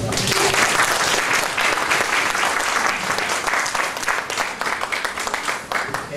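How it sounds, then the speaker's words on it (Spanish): Steady audience applause from a church gathering fills the space, dense, loud and continuous from start to finish, with no voices over it. "Muchas gracias, Padre, le damos un gran aplauso."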